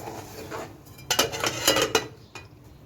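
A metal lid clanks down onto a pot of tomato sauce: a few close, sharp clinks and rattles in quick succession, then quiet kitchen background.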